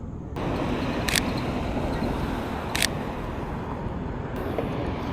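A camera shutter fires at 1/8 second, giving two brief crisp clicks about a second and a half apart against a steady roar of roadside traffic.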